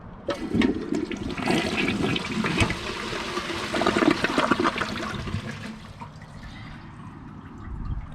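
A toilet flushes with several toy army men in the bowl: a loud rushing swirl of water for several seconds, fading into a quieter trickle and refill.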